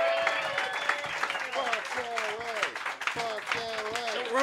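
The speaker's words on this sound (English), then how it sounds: "Clap it up." Audience clapping and cheering at a live roast comedy show, with voices shouting over the applause throughout and the noise rising and falling in bursts.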